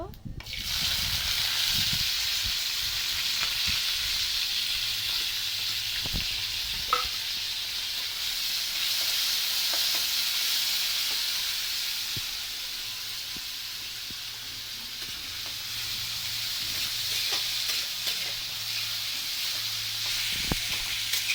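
Cumin and chopped onion fry in a hot pan with a steady, loud sizzle and occasional stirring scrapes and clicks, with a faint low hum underneath.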